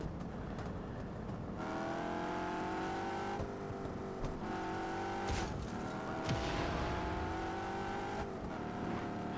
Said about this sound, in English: This is more like a Lamborghini-esque car. Looks like a Countach or something. You can ride it around town